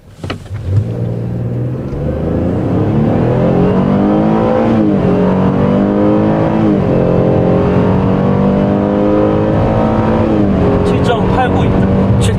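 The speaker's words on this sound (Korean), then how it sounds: "자, 여기서 제로백을 한번 예, 해보겠습니다." A 2022 Chevrolet Traverse with a 3.6-litre 314-horsepower V6 and nine-speed automatic accelerates hard from a standstill, its engine note rising loud and steady through the gear changes, heard from inside the cabin.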